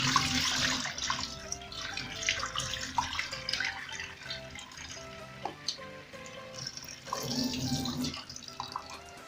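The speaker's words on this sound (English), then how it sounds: "So first I'm going to start by washing my meat." Tap water runs steadily into a sink while about a kilogram of beef is rinsed for homemade broth, a close splashing flow with small clatters and surges of louder gushing.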